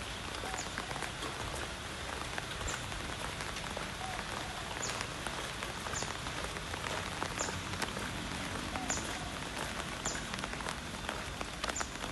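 Steady rain pours onto surfaces around a walker at Prince of Songkla University in Phuket, Thailand, a dense, even hiss of drops lasting throughout without speech.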